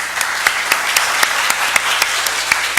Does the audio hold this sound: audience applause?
yes